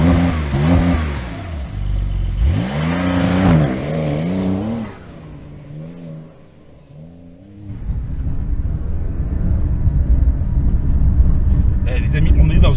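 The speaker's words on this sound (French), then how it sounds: "on est dans une 911 et on roule dans la forêt" A Porsche 911 GT3 RS with its body raised about 3 cm drives off-road over a forest track, its engine droning and surging loudly beneath near, continuous talking, then settling into a rumbling, gravelly roll.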